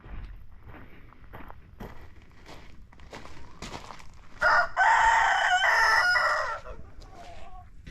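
A rooster crows loudly at a backyard chicken coop in Alaska, one long harmonic call that rises and holds for about two seconds mid-clip, with faint clucking and footsteps around it.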